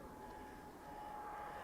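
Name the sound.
aeroplane flying overhead near Fukuoka airport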